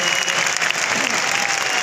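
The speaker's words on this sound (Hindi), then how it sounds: "एक बार ताली बजा सकते हैं" Audience applause at a new product launch marking a 24th anniversary at Indira Gandhi Stadium, Delhi: a large crowd claps steadily and loudly throughout, a dense, even wash of claps with no pauses.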